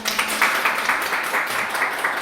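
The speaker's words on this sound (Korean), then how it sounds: "박수 한번 부탁드립니다." An audience applauds a guest welcomed at a parent-education event for a play-teacher support program for disabled children. The clapping is steady and moderately loud, with small rhythmic swells throughout.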